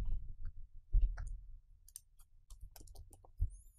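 Sparse, quiet keystrokes on a computer keyboard while typing JavaScript code, a handful of scattered clicks over a low background hum, without speech.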